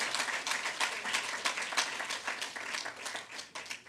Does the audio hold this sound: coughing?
no